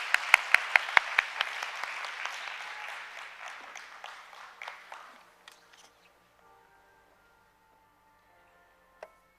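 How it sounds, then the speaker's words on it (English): An audience at the 7th World Humanities Forum gives a lecture a round of applause, with dense, steady clapping that starts loud, thins out and fades away over several seconds, leaving a few scattered claps. "So another round of applause for Professor Omong, please"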